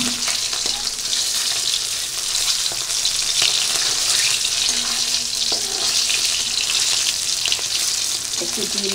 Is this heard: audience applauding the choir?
no